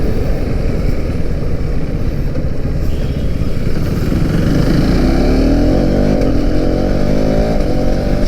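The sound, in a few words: KTM Duke 390 gen 3 motorcycle riding, gear shifting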